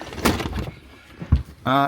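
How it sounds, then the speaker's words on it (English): The rear door of a Ford Custom LUX XL2 high-top camper van opens and its handle slides, giving a few sharp clunks and rattles close by, with a brief voice-like tone at the end. "if you open this door here and you slide this handle"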